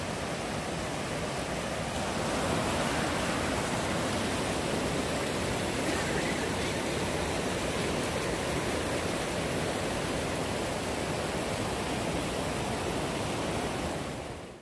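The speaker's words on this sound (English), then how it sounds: "Beautiful river here." Mountain river in the Great Smoky Mountains rushing in a continuous, even broadband roar, close and steady from start to finish without voices.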